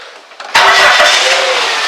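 A Plymouth or Dodge car engine with a newly installed alternator cranks briefly, then catches and starts, settling into a loud, steady run close by.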